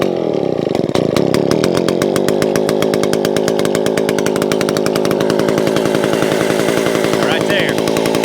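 A Stihl chainsaw, MS250 or 041, runs steadily and loud up close with a fast, even chain rattle, idling and warming up before test cuts on logs. The engine note holds constant throughout, with no voices over it.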